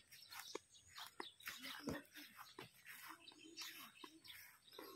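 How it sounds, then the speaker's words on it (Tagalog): Birds chirp and call through a countryside lane in Guinayangan, Quezon, a busy layer of high tweets close and far, with a few louder notes and a faint voice or two underneath. "Wala ka maririnig kundi huni lang ng ibon."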